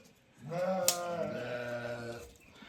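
A young ewe lamb of a sale flock gives one clear, wavering bleat about two seconds long. It is close and stands alone against quiet surroundings.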